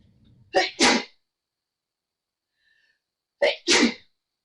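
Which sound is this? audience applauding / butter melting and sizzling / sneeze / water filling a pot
sneeze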